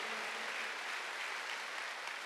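Applause from a church congregation at a Wednesday worship service: a dense, even wash of many hands clapping at once, steady and moderately distant, with no voices over it.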